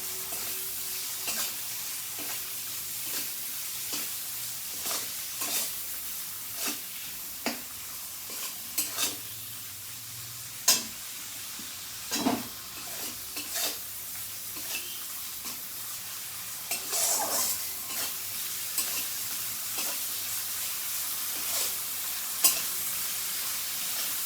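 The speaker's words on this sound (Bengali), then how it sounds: "এই চিংড়ি মাছটা আমি এই মশলার সঙ্গে ভেজে নেব।" Shrimp frying in a pan with spices for a Bengali gourd dish. A constant sizzle is heard up close, with repeated scraping stirs and clatters of the spatula through it.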